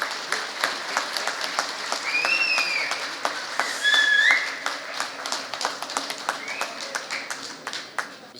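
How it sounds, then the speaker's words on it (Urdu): Applause welcoming a speaker at a lawyers' panel dinner ceremony, moderate clapping from an audience with sharp individual claps, whistles rising over it midway, and a voice faintly in the background. "آپ کی بھرپور تالیوں میں ولی خان ناصر صاحب."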